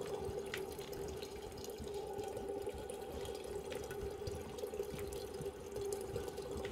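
Running water in the video game Prey, as from a tap filling a sink: a steady close hiss and trickle with faint drips that carries on without a break.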